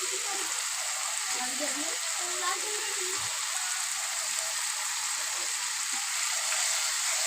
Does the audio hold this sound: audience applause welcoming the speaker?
no